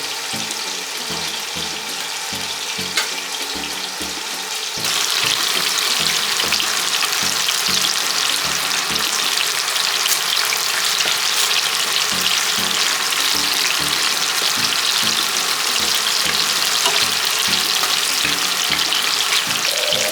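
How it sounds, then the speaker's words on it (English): Fish steaks hit hot oil in a pan for a Jamaican dish, the sizzle jumping sharply louder partway through and then holding a steady, crackling fry with occasional stirring. "And I will just add the fish."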